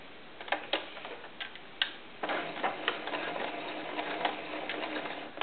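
A sewing machine stitches along the seam of a ruffled doll skirt, making a quiet rapid ticking run in short bursts, then a longer steady whir, close and without talk.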